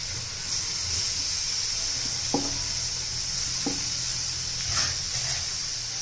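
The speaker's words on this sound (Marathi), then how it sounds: "तर हे पण आता त्याच्यामध्ये आपण टोमॅटो घालून घेऊया." Onions frying with fresh tomatoes just added for a spinach and chickpea masala: a steady bright sizzle runs throughout, with a couple of sharp spoon taps against the pan and soft stirring scrapes, close and without voices.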